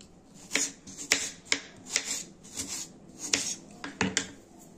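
A knife chops tomatoes for tomato soup on a board in a kitchen, a series of sharp, close knocks in an uneven rhythm, about a dozen strikes, fairly quiet and with no talk.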